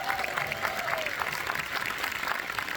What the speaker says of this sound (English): Make some noise for Helen, please.